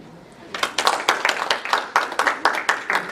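A small audience at a VFW post show claps in brief, uneven applause of about a dozen sharp claps over a few seconds, close and moderately loud, with no talk.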